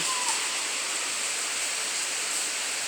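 Steady rain falling outdoors, a dense, even wash of hiss with no breaks or distinct drops, heard alone and at a moderate level.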